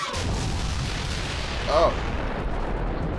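Explosions and weapon fire rumble in Bioshock Infinite as a heavy, continuous low-end barrage, with a short exclamation from a player cutting in partway through.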